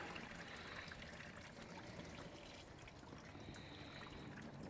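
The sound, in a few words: rusty water draining out of Jeep T90 gearbox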